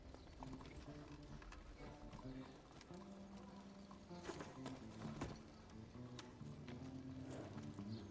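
Horse hooves clip-clop steadily in the Western horror game Evil West, a moderately loud, even trotting rhythm that runs beneath a continuous music score, with no voices.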